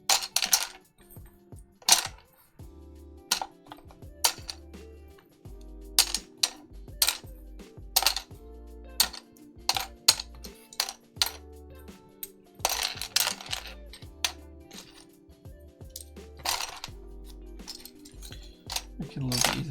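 Plastic mechanical keyboard keycaps being sorted and rummaged through by hand, giving many small clicks and clatters in irregular bursts, close by, with soft low thumps and a steady faint hum underneath.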